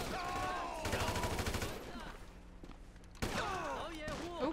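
Gunfire in Grand Theft Auto V aimed at the player: loud rapid bursts of shots around the one- and three-second marks over game music and character voices, with no commentary spoken.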